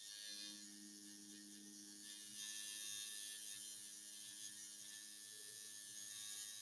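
A coil tattoo machine runs with a steady electric buzz and hum that holds for several seconds at a constant, moderately loud level, heard alone without speech.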